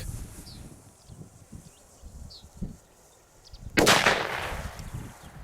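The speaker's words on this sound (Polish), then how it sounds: "widziałem, że trawa się zajęła podpaliła się, ale ten potężny wybuch ją zgasił" A DUM BUM Black Edition PB120D firecracker goes off with one sharp, loud blast partway through, its rumble dying away slowly over quiet outdoor background with faint birdsong before it.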